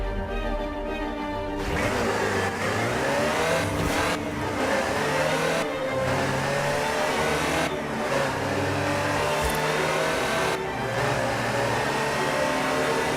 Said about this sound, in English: The next segment is about Land Rover, and we'll be starting out with the Type 3.